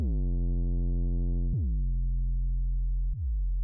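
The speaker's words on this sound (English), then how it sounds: "you'll see this square, when I turn the cutoff, gradually start to resemble a sine wave" A steady synth square wave starts bright and buzzy, then mellows into a smooth, pure sine-like hum as the filter cutoff turns, with two soft pitch dips along the way.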